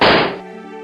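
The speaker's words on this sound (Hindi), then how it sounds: "सिपाही चुड़ैल के तेवर देखकर फुर्ती से अपनी पिस्तौल निकालता है और चुड़ैल के ऊपर गोली चला देता है।" A pistol gunshot sound effect in a Hindi horror cartoon story: a loud, sharp single bang that decays over about a third of a second into a ringing tail.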